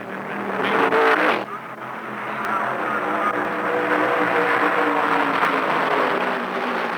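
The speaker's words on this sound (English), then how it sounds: "Shepherd is camping on Jack Ingram's bumper all the way around the track." Stock cars racing around the track at the 1975 Permatex 300 make a close, loud roar that swells as a car sweeps past, then settles into a steady engine drone.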